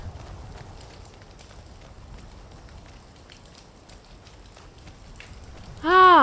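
Light rain falls in the video game Skyrim, a soft patter and hiss with scattered drip ticks, ending in a brief loud tonal sound.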